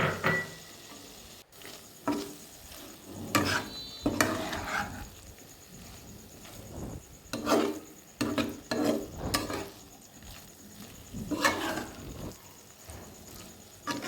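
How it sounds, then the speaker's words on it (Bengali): Aloo posto, a Bengali potato and poppy-seed dish, being stir-fried with a little chili powder in a pan, with soft sizzling under repeated scraping and stirring strokes at close range. "এবার নামানোর সামান্য কিছুক্ষণ আগে অল্প লঙ্কার গুঁড়ো দিয়ে ভালোভাবে আরেকবার কষে নেবেন।"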